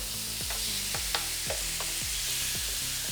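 Asian beef short ribs sizzle steadily on a hot grill, with a bright, constant hiss broken by a few soft scrapes and taps as the meat is flipped.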